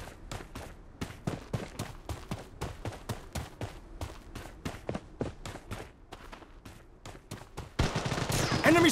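Rapid gunfire in the video game Blood Strike, rattling off in dense bursts of repeated shots that build louder toward the end, with no talk over it.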